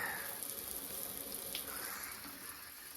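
Water runs and hisses steadily from a leaking underground pipe in a barn, a continuous close spray-like rush with no speech.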